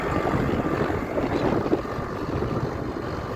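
A tractor engine runs with a continuous low rumbling drone, close and steady, mixed with some wind buffeting on the microphone.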